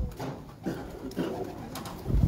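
Neel Dumba pigeons cooing close by, a few soft, low throaty coos with light rustling around them.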